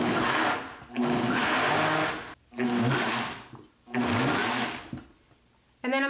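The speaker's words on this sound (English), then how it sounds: "I'm gonna set it to medium and I'm gonna go ahead and blend it" A blender pulsing a cheesecake flan mixture, four loud motor whirs of about a second each separated by brief stops, close up, with a fifth burst starting at the very end.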